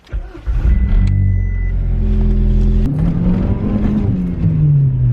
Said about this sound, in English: we're going to take it just for a drive just to see if it feels any different